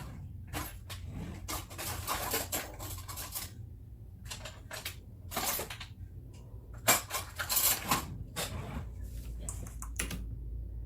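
Cutlery and dishes clattering in a kitchen drawer while someone fetches a spoon, with quiet light clinks and taps scattered across the stretch, close and fairly soft.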